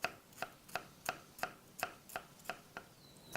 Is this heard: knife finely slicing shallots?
yes